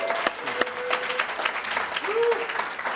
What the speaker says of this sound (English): let's give him a round of applause really quick